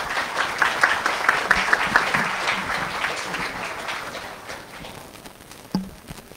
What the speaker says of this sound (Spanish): Démosle un aplauso nuevamente a la señora Zenaida Franco.